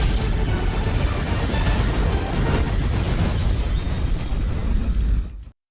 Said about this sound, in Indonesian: Pesawat Red Room mulai meledak.